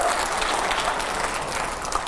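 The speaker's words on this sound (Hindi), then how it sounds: "तालियां जरा जोरदार होनी चाहिए हर सवाल के पहले" Audience applause at a live talk event with poet Imran Pratapgarhi, a dense, steady clapping from a crowd, continuous and fairly loud for about two seconds.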